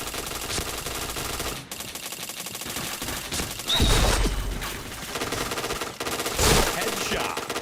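Gunfire in the shooter game Point Blank: rapid automatic bursts rattle continuously, with a couple of heavier blasts breaking through the clatter.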